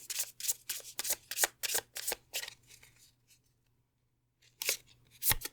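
Tarot cards are shuffled in a quick series of crisp riffling bursts, then a short pause, followed by a couple of soft slides and snaps as cards are drawn. Quiet and close.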